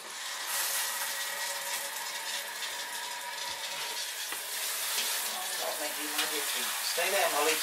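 Water runs and splashes steadily while dogs are bathed, a continuous moderate hiss with brief knocks near the end, and no talk over it.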